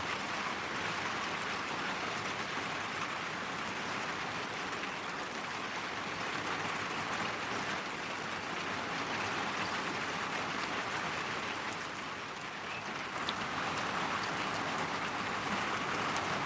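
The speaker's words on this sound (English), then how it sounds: "I'm just sitting here listening to the rain." Steady rain pours down in an even, dense hiss during a prolonged deluge in Mountain View, Hawaii, falling on surfaces without letup, with no voices.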